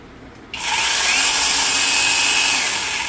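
A rechargeable battery-powered saw with a twelve-inch blade starts up after a short quiet moment, then runs at a loud, steady, high whine for a few seconds, close by and without talk.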